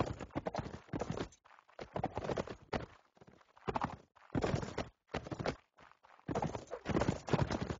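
Horse hooves clop in a video game, uneven clusters of muffled beats that come in bursts with short gaps between them, near and moderately loud and with no talk over them.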